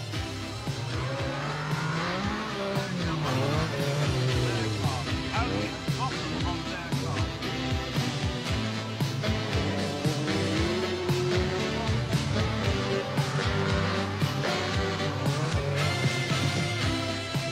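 Lancia Delta S4 rally cars race through snow and ice at the Swedish Rally, engines droning and revving loudly throughout with tire noise, under a dense layer of music.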